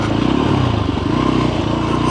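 A Voge Rally 300 motorcycle on stock tyres riding through sand along the edge of a bank, its engine a loud, steady close-up drone with a rough throbbing pulse and some clatter, no talk.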